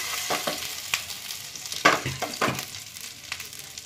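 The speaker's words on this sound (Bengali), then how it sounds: "আমি কিন্তু স্যালো ফ্রাই করবো এরকমভাবে, ডিপ ফ্রাই না।" Soybean kebabs shallow frying in a pan with a steady close sizzle, broken by clacks and scrapes as pieces are placed and moved.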